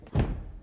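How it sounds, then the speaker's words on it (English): A single loud, heavy bang against a wall in The Haunting of Hill House, a sharp thud that decays into a low rumbling tail, heard alone without talk. "Banging on the wall to tell me about the stupid dogs? That's a loud bang."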